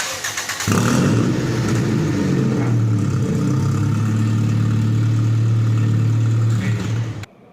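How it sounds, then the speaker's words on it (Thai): A car engine runs steadily and loudly after its drive belt has been tightened, starting with a quick rev and then holding a strong, even hum close by for several seconds before stopping. "ล็อกสายพานให้ตึง แล้วก็ทดสอบ การทำงานของเครื่องยนต์"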